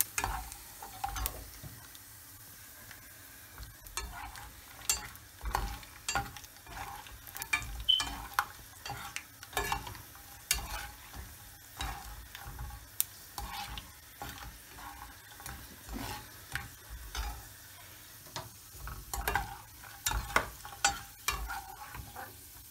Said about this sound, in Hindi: अब हम इसमें मूंगफली फ्राई कर देंगे।